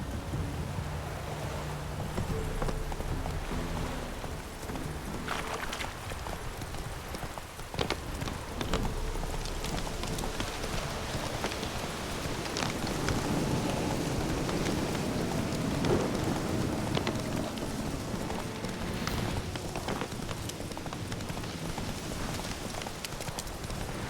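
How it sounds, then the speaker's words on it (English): A storm rolls through The Witcher 3 video game, with steady rain hissing throughout and low rumbles of thunder, while horse hooves clip-clop along underneath. "Storm, damn it."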